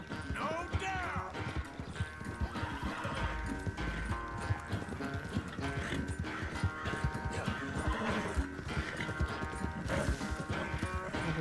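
A horse in the Red Dead Redemption 2 video game gallops with steady, rapid hoofbeats and lets out whinnies, all over a continuous game music and ambience bed.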